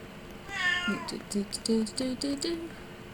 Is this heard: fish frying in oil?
no